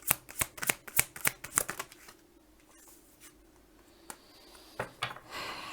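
Tarot cards shuffled in quick riffling bursts for about two seconds, then a quieter pause with a few isolated soft card snaps and slides as cards are drawn and laid down, close to the microphone.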